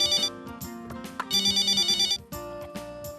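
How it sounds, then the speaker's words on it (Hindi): A telephone rings in a home, repeating bursts of electronic bell-like tones in a steady pattern with brief gaps, loud and near, with no talk. "फोन उठाइए।"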